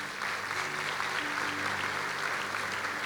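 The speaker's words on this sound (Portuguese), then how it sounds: "Você pode dar um aplauso a Ele?" A church congregation applauding during a worship service: dense, continuous clapping from a large crowd, steady and fairly loud, with soft sustained instrumental tones underneath.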